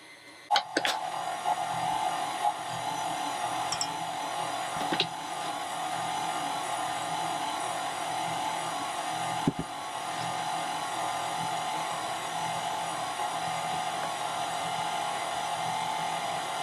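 A KitchenAid stand mixer runs steadily with a constant motor whine and hum, a few clicks and knocks at the start and midway, loud and close with no talking.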